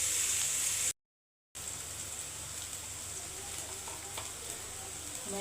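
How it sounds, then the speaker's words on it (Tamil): Onions frying in a pan for pasta, a steady hiss of sizzling oil with a few faint stirring clicks, close and continuous apart from a short silent gap near the start. "வெங்காயம் நல்லா வதங்கட்டும்."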